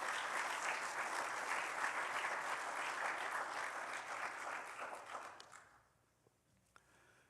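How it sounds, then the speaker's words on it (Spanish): A church congregation applauds Christ during a sermon with a broad wash of clapping that swells, holds for about five seconds and then fades out, leaving a quiet room with a stray tap. "Denle un aplauso a Cristo."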